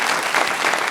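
Studio audience applause on a Pakistani TV talk show, steady dense clapping filling the whole second at an even, fairly loud level with no voices over it.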